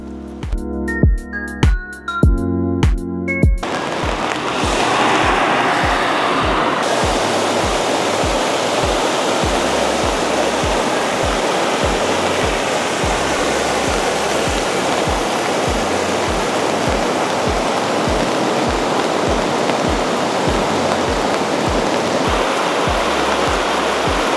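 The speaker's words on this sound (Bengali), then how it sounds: "বৃষ্টিতে আমার ভিজতে এত আনন্দ লাগে, সেই সাথে কাঠের ব্রিজ, ঝর্ণা" Heavy rain and a waterfall near a wooden bridge on a road trip through Luxembourg and Germany, a loud dense rushing roar that runs steadily throughout after a few seconds of rhythmic music at the start; no speech.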